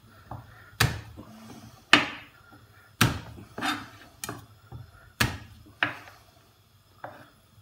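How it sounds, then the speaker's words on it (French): Garlic cloves crushed with a knife on a cutting board for poulet basquaise, about eight sharp separate thuds and knocks at uneven intervals, close and clear with no talk. "On écrase notre ail."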